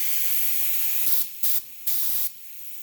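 Breath blown across a tube draws water up into a fine spray, a loud steady hiss that cuts off briefly twice in short gaps before dropping away near the end.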